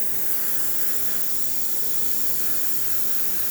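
The steam wand of a La Pavoni lever espresso machine gives off a loud, steady hiss close by, unbroken throughout, with no talking.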